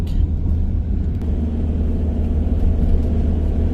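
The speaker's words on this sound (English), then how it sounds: "I am now driving on my way to Selkirk." A campervan cruises along a quiet road in the Scottish Borders near Selkirk, its steady low engine and tyre rumble filling the cab at a constant, fairly loud level with no pauses.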